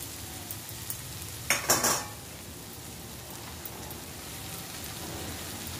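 Ragi mixture being stirred and fried in a pan, with a soft steady sizzle and one brief burst of spoon scraping against the pan.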